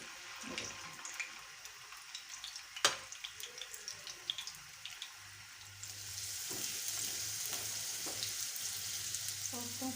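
Chicken koftas sizzle in a pan with scattered crackles and an occasional clink as they are turned, and the frying hiss grows fuller and steadier in the second half.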